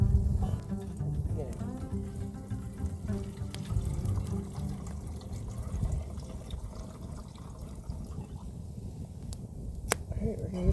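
Lake water from Snowbank Lake is poured at a wilderness campsite in the Boundary Waters near Ely, Minnesota, a continuous splashing trickle with a dull low rush that runs steadily for several seconds, with a faint voice in the background.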